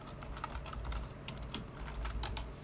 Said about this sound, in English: Let me type in plagues.